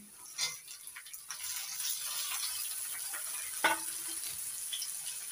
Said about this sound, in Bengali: রসুন বাটা আর পেঁয়াজ ভেজে নিয়েছি। এবার দিয়ে দিচ্ছি টমেটো কুচি